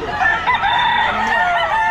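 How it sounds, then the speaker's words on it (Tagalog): Fighting roosters crow loudly and close by at a pet market, overlapping calls with clucking underneath, no talking. "dito nagtipon yung mga panabong na manok"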